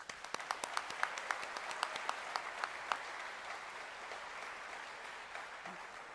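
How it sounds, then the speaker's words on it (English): Applause at a college graduation ceremony, with sharp individual claps standing out early over a softer spread of hand-clapping that thins and fades toward the end. "let's give everybody a round of applause"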